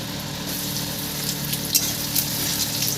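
Asafoetida, cashews and raisins sizzle in hot oil with a steady, close frying hiss and a few brief crackling spikes, without talk.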